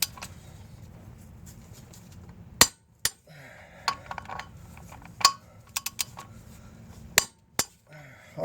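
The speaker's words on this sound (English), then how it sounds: "we're going to go ahead and finish torquing these" Sharp metallic clicks and clinks from a torque wrench tightening the transmission bolts on a 2008 Mazda Tribute, Ford Escape or Mercury Mariner, scattered irregularly over a low steady hum with quiet gaps.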